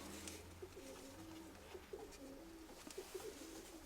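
Pigeons in a loft give soft, low repeated coos, a gentle rolling rhythm of murmured calls over a faint background hiss.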